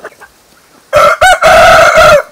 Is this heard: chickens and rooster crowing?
yes